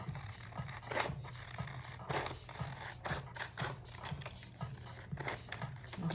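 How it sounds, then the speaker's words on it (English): Scissors snip around paper cut-outs for a heritage collage, giving a quiet run of quick, crisp clipping sounds in a steady, slightly irregular rhythm close by. "So that's why I'm cutting around and getting all this extra white away from it"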